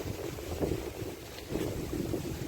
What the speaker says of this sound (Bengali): সুন্দর বাতাস